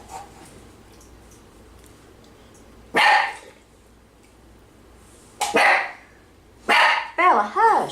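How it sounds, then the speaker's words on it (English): A dog barks indoors in a home, sharp and loud, in three separate bursts spaced a couple of seconds apart against a quiet background. The last burst is mixed with a person talking. "That was my dog barking"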